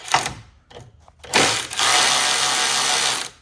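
Snap-on long neck ratchet breaking loose a Loctite-secured bolt: a few sharp clicks and knocks at first, then a steady rapid ratcheting buzz that runs close and loud to the end.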